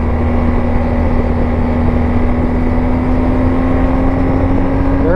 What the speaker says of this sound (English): First gear, second gear, just revving it out.